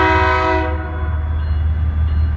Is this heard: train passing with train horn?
yes